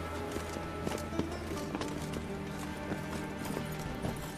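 Horse hooves clip-clopping at a steady trot in The Witcher 3, a continuous rhythmic patter under a dense bed of game ambience and music, with no talk.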